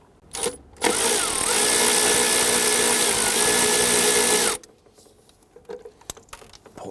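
A power tool spins out a 10mm bolt holding a hard line bracket on the intake of a 2011–2017 Nissan Quest 3.5L V6, a loud steady whir lasting about four seconds, then quiet clicks and handling.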